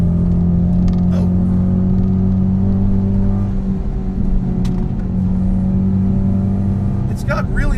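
A Ford Mustang engine pulls hard around a track lap, a loud steady rumble heard from inside the car. The tone holds fairly even with small shifts, and a driver talks over it.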